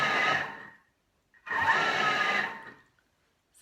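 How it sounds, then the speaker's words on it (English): A Thermomix on turbo pulsing butter into flour, heard as three short, loud, whirring bursts separated by brief silences, the last one cut off at the end. "that's just turbo pulsing 3 times, just quickly mixing and chopping it in"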